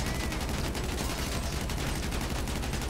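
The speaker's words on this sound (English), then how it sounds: "Shooting flares." Flare gun shots fired in Grand Theft Auto V arrive as a dense, steady barrage of rapid bangs that never lets up, with no talk.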